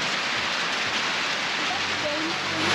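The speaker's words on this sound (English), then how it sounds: "Been like pouring rain like crazy for the last 15 minutes." Heavy rain pours down onto a street in Yaoundé, Cameroon, a dense, loud, unbroken hiss that fills the whole stretch, with faint voices barely audible beneath it.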